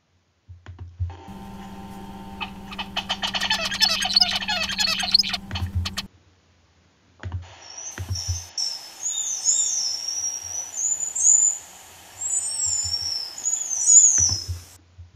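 Recorded birdsong syllables played back: a dense run of rapid repeated chirps and clicks over a steady tone, a short pause, then a second passage of warbling whistles and calls, close and clear.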